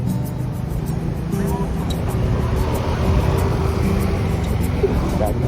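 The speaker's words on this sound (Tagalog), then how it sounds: "Ang sarap mag-scooter!" Lambretta scooter with ABS and traction control ridden at speed, a steady engine drone mixed with rushing wind noise, close and continuous throughout.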